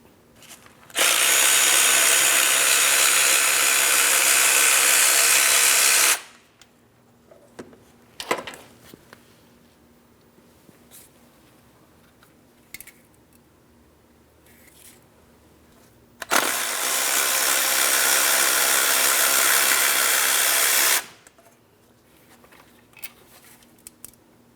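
Engine mount bolts with 15mm and 13mm heads are removed from a 2003-2007 Cadillac CTS 3.6L V6 by a power tool, heard as two long loud buzzing runs separated by quiet clinks and tool handling.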